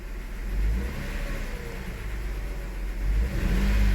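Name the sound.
Toyota engine revving under light throttle, misfiring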